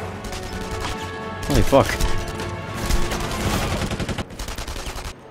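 Enemy gunfire in the World War II shooter Enemy Front at Saint-Nazaire, bullets punching through wood: a loud burst of rapid shots and impacts, then a longer volley, while a player swears and talks over it.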